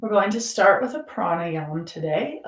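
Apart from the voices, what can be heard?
No everyday noises stand out.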